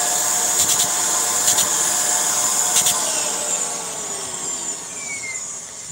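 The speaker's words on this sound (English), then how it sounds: "I'm hearing the airflow relief valve go. So there's something in there that's clogged" A Hoover Air Steerable vacuum runs loud and close with a steady whine while its airflow relief valve opens from a clog, giving pulsing whooshes and a shifting tone as the motor note slowly slides downward.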